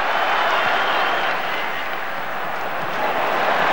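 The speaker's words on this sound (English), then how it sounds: "Great emotion in the crowd." Dense, sustained roar of a large football crowd at a cup final, with Crystal Palace playing. Broad and loud throughout, swelling slightly at the start and end, with no distinct voices standing out.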